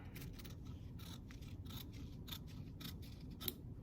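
Scissors snipping through a fabric scrap while a pattern piece is cut out, a series of quiet, close, crisp cuts in an irregular rhythm with no talking.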